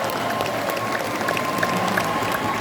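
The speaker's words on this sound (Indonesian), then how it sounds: "Tepuk tangan untuk para pejuang reformasi kita" A crowd applauds at a gathering marking 25 years of Indonesian reform, honouring the reform fighters: steady, dense clapping from many hands, held at an even level throughout.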